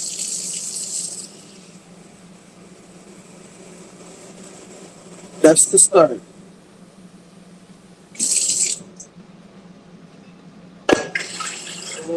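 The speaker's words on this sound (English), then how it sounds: "So to start off, I'm going to get 2 cups of water." Tap water runs into a measuring cup for two cups, short bursts of splashing flow separated by quiet gaps, with a brief clatter and a person speaking briefly.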